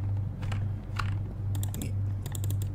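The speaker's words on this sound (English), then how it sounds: "Are you clicking buttons?" Computer keyboard keys clatter in irregular bursts of typing over a steady low hum, with no voices, during a horror game session.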